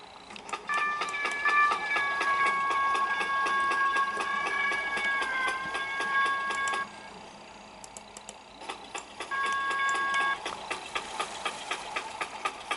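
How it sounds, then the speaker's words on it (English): BN Speeder rail vehicle in the Trainz game, a steady rumbling engine with rhythmic clacking and tonal whine, dropping quieter for a moment before the whine returns, no talk. "Now here's another locomotive that I downloaded."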